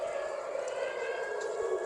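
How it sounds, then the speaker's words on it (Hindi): An air raid siren wails in Israel during an attack, a steady sustained tone holding level from somewhere in the distance, faint and continuous without a break. "तो सायरन फिर से बज चुकी है और लोग बंकर में जा रहे हैं।"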